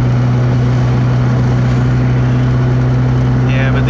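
A car engine runs steadily in low first gear on a city street with a 45 mph limit, a loud constant drone with strong low hum throughout, and a faint higher whine near the end.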